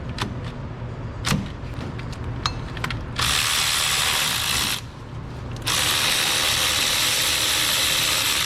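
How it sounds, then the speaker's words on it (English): Ratchet clicking as 17mm power steering pump bolts are loosened on a Mazda B2300 pickup, starting with short separate clicks, then two long runs of steady, close, loud ratcheting with a brief pause between. "Go ahead and start removing the bolts for the power steering pump."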